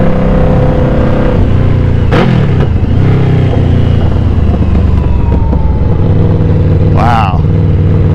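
A Yamaha Vmax cruiser motorcycle rides loud and close, its engine note rising and falling as it accelerates, with sharp pops and crackles from the exhaust and a rider's voice heard briefly over the engine.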